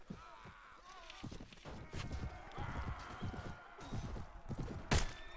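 Horse hooves clip-clop in the video game Viking Conquest, irregular thudding steps amid battle clatter with a sharp crash near the end, moderately close and fairly quiet.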